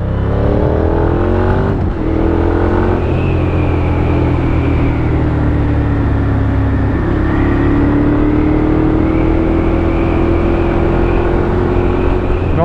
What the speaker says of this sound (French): le moteur est sympa, mais par contre le rupteur arrive très vite, faut vite changer les rapports